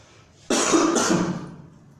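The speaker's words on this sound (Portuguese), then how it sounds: "Deu uma esfriada esses dias e a tosse atacou" A single harsh, throaty cough bursts out close by, lingering for about a second before fading back to quiet.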